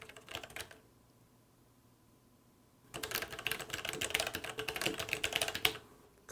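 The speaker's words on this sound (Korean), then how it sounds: "제가 한번 타이핑 해볼게요." A Logitech G PRO tenkeyless mechanical gaming keyboard clatters briefly under quick keystrokes, falls quiet, then returns with a dense, fairly muted run of close typing for several seconds.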